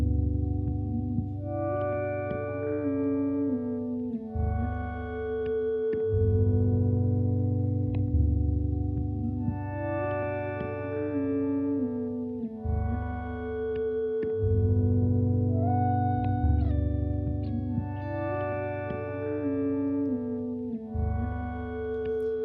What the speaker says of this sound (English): This is just a simple loop, sound on sound style with nothing but dry modulation